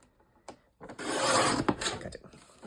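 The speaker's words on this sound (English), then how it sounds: "I'm going to turn it and place it in my trimmer, lining up the top with my blade and the bottom with my blade" Paper trimmer blade slicing through a sheet of Graphic45 patterned paper, giving a close, dry scraping rasp of about two seconds after a couple of faint taps.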